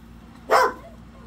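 A single sharp dog bark close by indoors, one short burst standing out against a quiet background hum.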